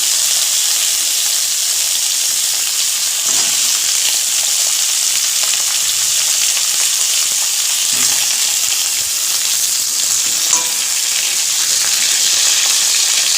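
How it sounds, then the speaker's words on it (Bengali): Pointed gourd and potatoes fry in hot oil, giving a steady, close, loud sizzle that runs without a break the whole time, with a few faint stirring knocks and no talking. "এবার এই তেলের মধ্যে আমি পটলগুলোকেও দিয়ে নেব"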